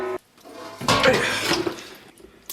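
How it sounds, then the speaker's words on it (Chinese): Running water rinses lamb ribs under a tap. A brief gush of water splashes close by for about a second, then fades to quieter trickling, with a short voice at the start. "咱们把这羊排好好的给它清洗一下。"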